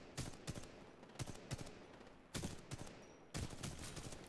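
Gunfire rings out in a video game gunfight as a series of sharp, loud shots in irregular bursts, some doubled and spaced apart, with no speech over them.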